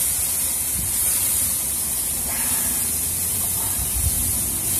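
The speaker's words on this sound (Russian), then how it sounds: "Курица быстро жарится." Chicken kebabs on an outdoor grill give off a steady hiss of sizzling juices, a constant bright spray-like noise with faint low thumps beneath, close and uninterrupted.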